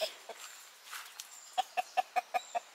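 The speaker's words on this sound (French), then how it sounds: "actuellement il ne nous reste plus qu'un coq, les 3 poules blanches, plus la grise" A rooster and hens in a henhouse cluck, starting with scattered calls and then a steady run of about seven evenly spaced, fairly close clucks.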